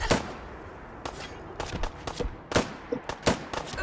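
Sharp SIG MCX rifle shots from a modded Fallout 4 game, fired unsuppressed in short irregular bursts of loud, close cracks with brief gaps between them.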